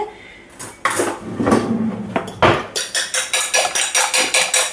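A seasoned egg with paprika, salt and pepper being whisked in a bowl, starting with a few irregular clanks, then a fast, even series of loud rhythmic taps of utensil against the bowl, close up, with no talking.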